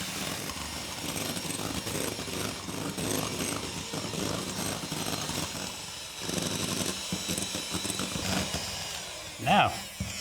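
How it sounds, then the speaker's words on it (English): An electric whisk whips egg whites with vanilla extract for an Italian meringue as sugar goes in, a steady loud motor whirr running throughout, with a brief sharper sound near the end. "And then we're going to whisk this and then slowly add in the sugar."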